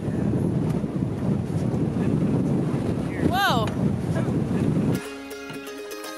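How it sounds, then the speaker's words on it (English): Wind roars steadily across a microphone on an Algonquin canoe trip for about five seconds, with a brief rising whistle midway, then the sound cuts abruptly to music. "It's a little bit windy!"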